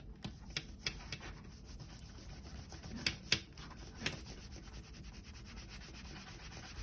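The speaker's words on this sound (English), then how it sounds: "So I'm just working it into the leather to help lift and remove the dirt and the grease." A damp sponge worked with soap over a leather bridle brow band gives soft, quiet scrubbing strokes, broken by a few sharp little rubs and taps close at hand.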